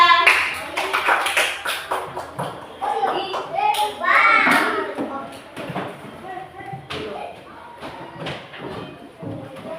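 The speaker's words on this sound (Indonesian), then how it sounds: "Tepuk tangan untuk kelompok 3." Children in a classroom clap together in a burst of applause mixed with excited chatter and voices of kids nearby.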